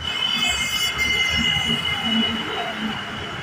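A local train runs from Sealdah to Park Circus in Kolkata, giving a steady, loud rolling rumble with thin, high wheel squeals held throughout.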